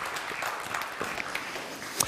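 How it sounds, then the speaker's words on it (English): Scattered applause from an audience at a speedway world championship press conference, a moderate patter of claps with occasional louder individual hits, fairly even throughout. "Let's give a round of applause."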